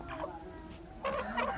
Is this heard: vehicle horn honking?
no